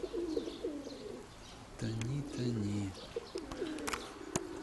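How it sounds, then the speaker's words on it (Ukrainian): A pigeon coos in soft repeated throaty phrases nearby, with faint chirps and light background noise between calls. "Ось голуб."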